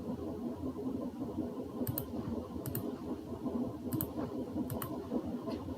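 Computer mouse buttons click sharply a handful of times, in quick pairs and singles, over a constant low hum while working in Paint.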